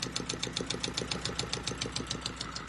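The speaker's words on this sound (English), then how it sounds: "That's as low as it'll idle right there. But that's around 700" A carbureted engine idles low at around 700 rpm, a steady rhythmic chugging pulse with a fast even beat, heard close and alone without talk.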